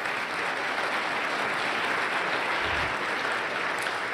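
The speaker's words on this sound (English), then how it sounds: "So they deserve a resounding round of applause for doing this." An audience applauds steadily, a dense, even wash of clapping that holds at full strength throughout, close and fairly loud.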